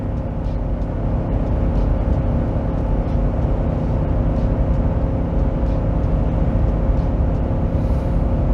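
A Ford F250 with the 7.3L Godzilla V8 gasoline engine drones steadily at about 4,000 RPM while towing a heavy load, a constant loud interior roar with no rise or fall.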